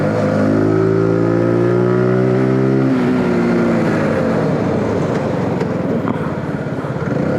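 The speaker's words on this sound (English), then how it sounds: "We're just trying to keep the engine at some higher RPMs and run it a little bit harder." Loud Zontes G125 motorcycle engine held at high revs, a steady droning whine that drops and roughens partway through, running continuously.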